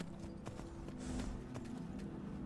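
Horse walking in a modded game produces soft, faint clip-clop hoofbeats in an uneven rhythm over a low ambient background, with no voices.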